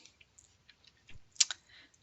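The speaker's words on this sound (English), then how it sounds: "Our Queen of the North is typing." Scattered keyboard typing heard faintly nearby: a handful of soft, irregular clicks with short gaps, one sharper cluster of keystrokes toward the end, otherwise quiet.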